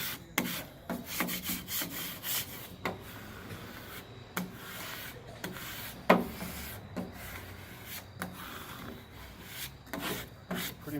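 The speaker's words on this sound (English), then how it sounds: "Squeegee this down." Rubbing and scraping strokes of a squeegee pressing vinyl lettering onto a store front window, repeated short swipes at close range with irregular rhythm and no talking.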